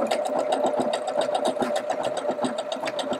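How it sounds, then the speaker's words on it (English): Husqvarna Viking Jade 20 sewing machine stitching ribbing fabric, a steady close-up whirring hum with a fast rhythmic needle clatter running throughout. "I'm just going to start sewing."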